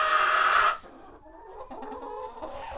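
A backyard flock of seven laying hens: one loud, close squawking cluck at the start, then softer mutters and low clucks from the birds, with no talking.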